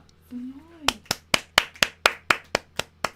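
A learner in an online Japanese lesson claps her hands about ten times in a steady, evenly spaced rhythm, each clap sharp, close and distinct, after a brief vocal sound at the start.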